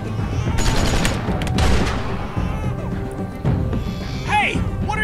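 Gunfire in The Walking Dead video game, a burst of loud shots and booms mixed with shouting voices and game sounds, continuous and close over about five seconds.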